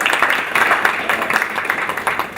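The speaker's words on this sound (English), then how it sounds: "give her a special round of applause" Applause at the opening day of an African school on decentralisation, a moderate crowd clapping steadily and fairly close for a short stretch, with a faint voice underneath.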